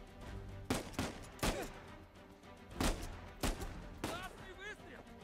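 Enemy gunfire in Uncharted 4: A Thief's End, several spaced heavy shots with booming tails, with a voice briefly heard between them.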